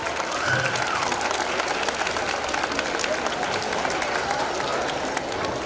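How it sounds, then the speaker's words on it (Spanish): Sustained applause from a crowd for a bishop at a church gathering, steady and fairly loud, with faint voices mixed into the clapping. "Un fuerte aplauso a nuestro señor obispo Angelito"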